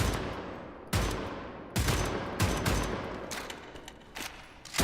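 Gunfire in Wolfenstein: The New Order: a run of loud, close shots, five or six sharp blasts at irregular intervals over a steady rumbling game background.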